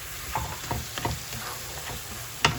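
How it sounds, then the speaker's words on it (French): A spoon stirring tomato paste through a sizzling pan, giving a steady low frying hiss broken by several soft scraping strokes and a sharper clink near the end. "on va rajouter une cuillère de tomate concentrée, juste un tout petit peu. Et on mélange."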